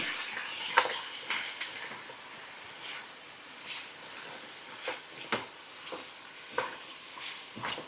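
Marinated chicken stirred with garam masala for biryani, a soft wet scraping and squelching that repeats at intervals, close and fairly quiet with a faint hiss underneath and no talking.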